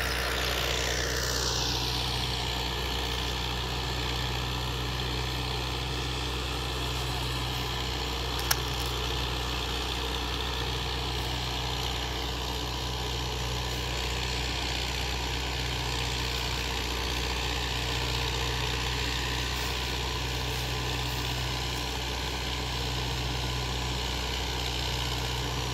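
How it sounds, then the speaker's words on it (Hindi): A 575 tractor engine drives a rotary tiller with a loud, steady diesel drone and low mechanical rumble that holds evenly throughout, close up, with no talking. "575 जो ट्रैक्टर है वो बहुत अच्छी चीज़ है"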